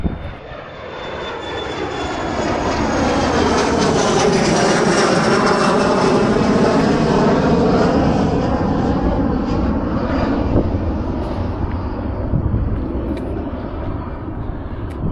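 An RJ145 regional jet at Aberdeen airport roars loudly and steadily, engine whine sweeping as the aircraft passes close by, holding a sustained broadband rumble for most of the span before easing slightly.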